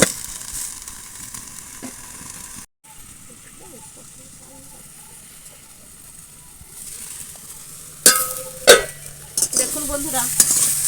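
Susni greens frying in a pan after a splash of water, with a steady low sizzle and stirring that bursts into loud, sputtering hiss and steam near the end.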